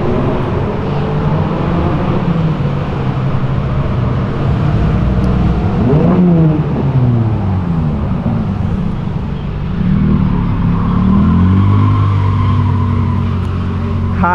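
Turbocharged 600 hp Honda Civic Si revving and pulling away at a car meet, its engine rising and falling in loud sweeping pulls close by with crowd noise underneath.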